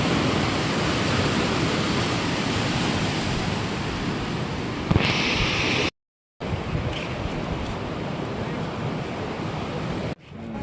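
A swollen river in flood after twelve hours of continuous rain gives a steady, loud, broadband roar of rushing water, dropping out briefly twice, with no voices.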